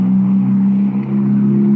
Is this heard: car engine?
yes